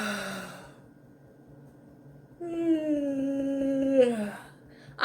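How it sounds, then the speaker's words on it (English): A person lets out a big drawn-out yawn during an EFT tapping exercise, a long voiced exhale that falls in pitch after a quieter breath, close and alone without speech. "Big yawn out."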